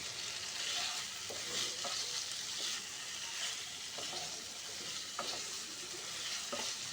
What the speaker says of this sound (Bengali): এরপর আমি এর মধ্যে ভেজে রাখা এঁচোড়গুলো এর মধ্যে দিয়ে খুব ভালো করে কষিয়ে নেব।